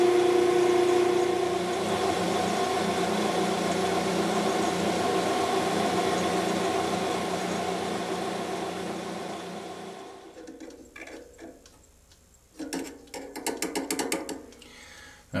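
A metal lathe turns a brass tube held between centers, giving a steady, loud mechanical whine with a gear-like hum for about ten seconds. It then drops away into scattered clicks and short bursts of cutting noise. No one speaks.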